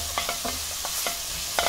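Vegetables for veg vermicelli pulao stirred in a hot pan over a steady background sizzle, with several short scraping strokes of the spoon at an uneven rhythm, close and moderately loud, with no talking.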